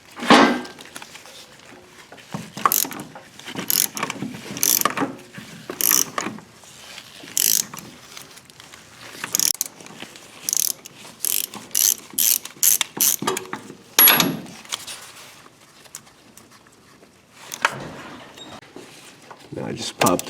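Ratchet wrench clicking in repeated bursts as it loosens a 3/4 steering shaft bolt on a rear-wheel-drive car, close and fairly loud, with pauses between strokes and some talk in the gaps.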